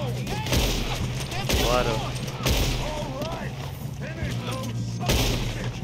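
Gunfire crackles through a train robbery shootout in Red Dead Redemption 2, with repeated shots and bursts spread across the scene under loud game ambience while characters talk over it.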